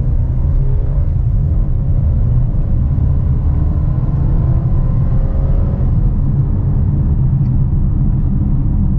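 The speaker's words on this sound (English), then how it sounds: "Then give the car some gas." A 2021 Mercedes GLB 250 4MATIC compact SUV with a 2-liter inline-four accelerates in sport mode, its engine a steady, loud low rumble with faintly rising tones heard from inside the cabin.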